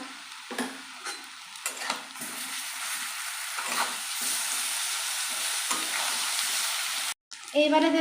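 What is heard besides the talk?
garlic paste frying with fried potatoes for fish curry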